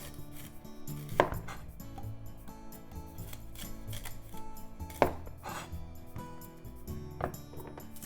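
A knife trims both ends off a lotus root on a cutting board. A few sharp, close thunks stand out against soft kitchen clatter, with no talking.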